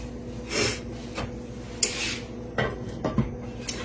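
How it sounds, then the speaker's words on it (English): A lid is set on a pan of food heated to 400 degrees, giving soft metallic clanks and scrapes in short separate knocks, fairly quiet with breathy gaps between them. "Now I'm going to put the top on it."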